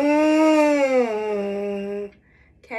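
A buzzing, brassy tone with strong harmonics from a trombone mouthpiece is held for about two seconds, sliding slightly down in pitch, then breaks off; a brief short buzz follows.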